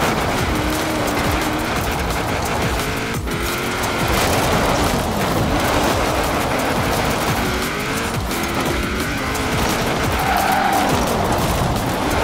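Forza Horizon 4 car drifting through the Mortimer Gardens, tires squealing continuously over a steady engine roar, loud and close, with no talk.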